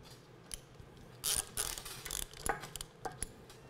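A chainfall hoist ratchets tight on a portable davit arm rigged to a manway bracket, giving bursts of metallic clicking and grinding with short gaps between pulls, fairly close over low background noise.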